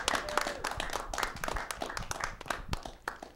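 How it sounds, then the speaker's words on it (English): Applause from a small audience, a steady patter of many hands clapping for a few seconds, moderately close, with no voices over it. "Another round of applause for Zach and Mary and Billy Mucha, please."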